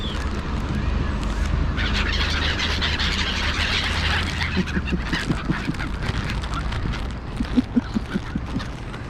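Seagulls compete for thrown food, giving loud harsh calls and squawks over a rumbling outdoor background, with repeated sharp cries toward the end.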